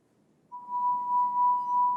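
A drinking glass rings with a single clear, sustained tone that begins suddenly after a short silence and holds steady at moderate loudness to the end.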